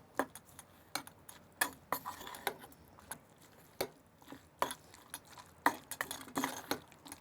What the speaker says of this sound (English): Mix salt very evenly, like this.